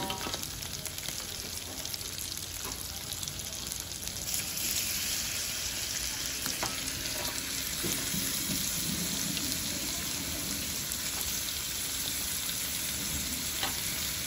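Water poured into a hot pot while cooking fried Maggi noodles, the pour merging into a loud, continuous sizzle and bubbling that fills the whole stretch.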